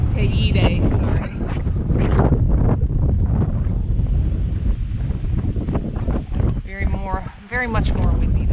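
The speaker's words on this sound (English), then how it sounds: "Very much more windy now." Strong wind buffets the microphone in heavy, roaring gusts on Tenerife near Risco Verde, with brief voices breaking through near the end.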